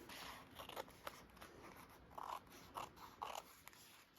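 Scissors trimming the glued page overhang of a handmade glue book, several crisp snips in an uneven rhythm, close and fairly quiet.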